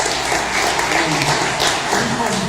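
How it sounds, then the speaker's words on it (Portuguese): A church congregation at a Holy Week service bursts into dense, continuous clapping, loud and close throughout. "A salva de palmas, Senhor."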